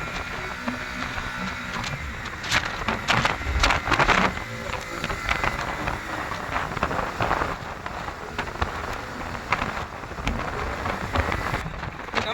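Stormy rain sweeping over Pamban Bridge at sea, a steady dense hiss of rain with gusty wind buffeting throughout, occasional louder bursts of spatter, and no voices.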